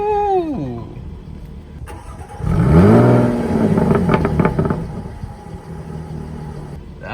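A Jaguar F-Type in dynamic mode with its active exhaust open starts up and revs, a sharp rising bark that swells into a loud sustained growl with crackles and then settles into a steady idle.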